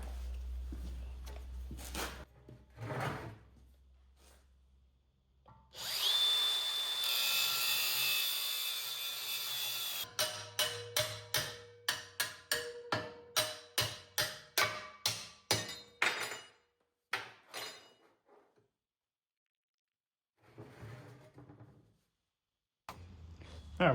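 Shop work notching and cutting a metal bracket for a 1977 Vega pro-street build, with a long continuous grinding or cutting run, then a fast series of sharp repeated strokes and scattered clanks, loud and close, no talk.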